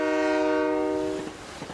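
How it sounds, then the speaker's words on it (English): A train horn sounds loud and close with a sustained chord-like blast, then fades into rumbling rail noise as the train passes. "I love the noise of the train."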